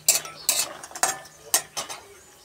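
A spatula stirs raw tomato frying in a pan, with five distinct scraping strokes at a steady, roughly half-second rhythm over a light sizzle, close and fairly quiet.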